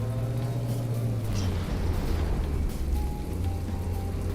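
Tank shell explosions in the naval and tank combat game From The Depths make a dense, continuous rumbling roar of overlapping blasts, loud and steady throughout, with a low engine-like drone underneath and no talk.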